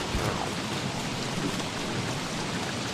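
Rain in the video game Don't Starve, a dense, steady hiss of falling drops with a low rumbling undertone, even in level and without any voices.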